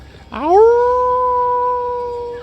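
Dogs howling from upstairs in a tavern, one long rising howl that swells quickly then holds a steady sustained tone before tapering, fairly loud and alone.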